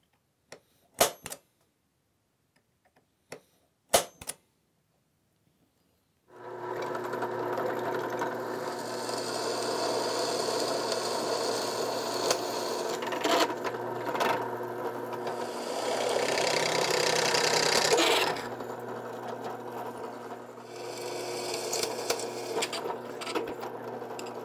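A few sharp clicks, then a steady motorized whir begins and runs continuously, rising slightly in pitch as a drill bit bores into metal.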